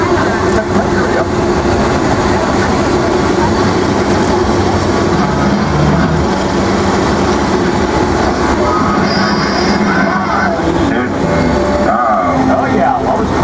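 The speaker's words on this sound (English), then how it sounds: "while this tram is moving" Universal Studios Hollywood studio tour tram rolling along, a loud steady rumble of wheels and motor with occasional squeals, while a guide speaks over it throughout.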